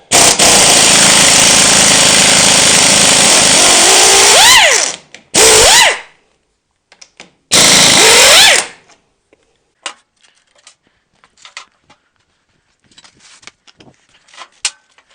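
An air impact tool rattles loose the brake caliper bolts on an Africa Twin motorcycle in a workshop: one long, loud burst, then two short bursts, followed by quiet clinks and handling noises.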